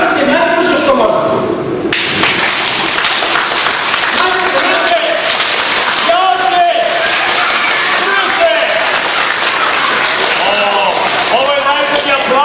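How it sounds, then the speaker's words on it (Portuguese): Children at a magic show in Kuršumlija clap loudly and steadily in dense, sustained applause, with voices and a few shouts mixed in throughout. "Ovo je najbolji aplauz do sada."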